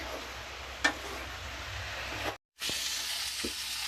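Minced chicken keema fries in a pan, giving a steady close sizzle and hiss broken by a few sharp clicks from stirring and a brief cutoff.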